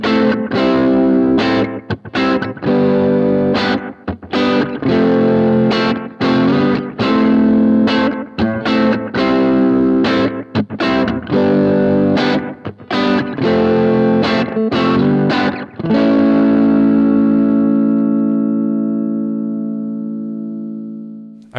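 An electric guitar plays loud, distorted, chorus-thick strummed chords through a Supro Delta King 8 amp with JHS Morning Glory and DOD Rubberneck pedals. Choppy rhythmic hits end in a long sustained chord that slowly fades.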